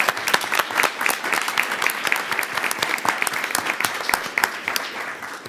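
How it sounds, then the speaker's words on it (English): A room of people at a board of trustees meeting breaks into steady applause, many hands clapping together at close range, sustained and fairly loud with no talk over it. "So I think we ought to give him a round of applause."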